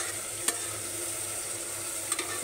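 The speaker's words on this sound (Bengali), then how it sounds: "কাঁচা টমেটো দিয়ে আমি হচ্ছে গিয়ে লাউ ভাজি করতেছি" Bottle gourd peel frying with green tomato in a pan, a soft steady sizzle under a quiet background, broken by two brief clinks of a utensil stirring against the pan.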